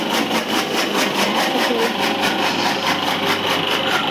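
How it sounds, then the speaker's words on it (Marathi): A farm machine engine runs steadily and loudly close by, a fast rhythmic pulsing drone that holds without letup. "असं ती मशीन चालू केली"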